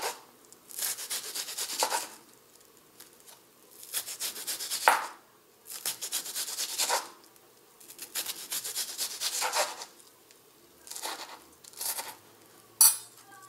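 Kitchen knife chopping diced onion on a cutting board, bursts of quick rhythmic cutting strokes separated by short pauses, close and fairly quiet, no talking.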